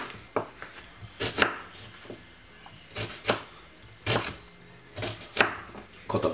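A medium white onion is chopped with a knife on a board, in close, loud bursts of several quick strokes separated by short pauses.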